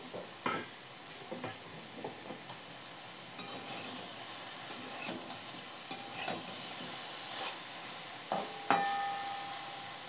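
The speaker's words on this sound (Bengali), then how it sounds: "এখন ওটাকে একটু কষিয়ে নিচ্ছি।" Bottle gourd stems are sautéed in a pan with salt and turmeric. Quiet, scattered scraping and clinking from stirring sits over a faint, low sizzle.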